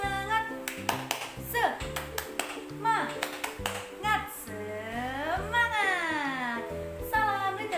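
Children perform a rhythmic clapping chant in a classroom setting, with sung tones and bursts of claps falling into a steady pattern, close and fairly loud throughout.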